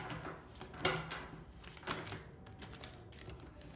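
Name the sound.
shuffling tarot cards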